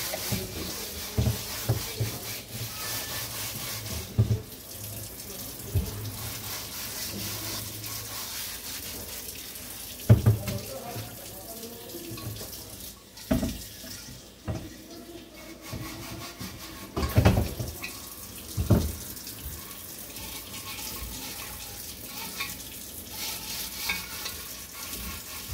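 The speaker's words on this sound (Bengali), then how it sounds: "এভাবেই পুরো কলসিটা ভালো করে ঘষে পরিষ্কার" A kalshi water pot is scrubbed and washed by hand, giving rough rubbing and scraping strokes with several sharp knocks and clunks of the pot, close and fairly quiet, with no talking.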